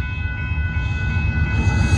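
A northbound Union Pacific mixed freight train with Norfolk Southern locomotives rumbles past a grade crossing at Dittmar Road in Austin, Texas, a loud, steady, close roar with faint metallic ringing.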